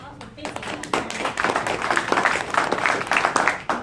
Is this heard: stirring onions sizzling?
no